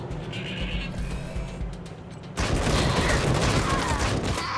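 Gunfire in the video game Wasteland 3: a steady low rumble turns into a dense, loud burst of shots and crackling fire at mid-clip, continuing to the end.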